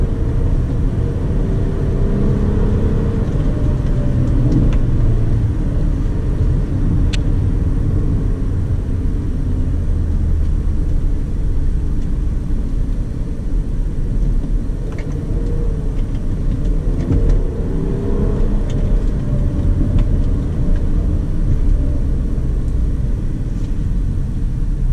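Interior drone of a Hyundai Azera with a 3.3 V6 accelerating along the Estrada dos Romeiros, a steady loud low engine and road rumble that holds nearly unchanged throughout, with no speech.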